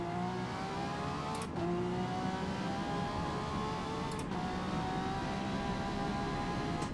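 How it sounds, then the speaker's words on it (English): Racing car engine in Forza Motorsport during a GT3 endurance race at Daytona, a sustained droning whine that rises in pitch, with two sharp shift breaks as the driver changes gears. It sounds close and steady, with no voices. "Oh, I downshifted."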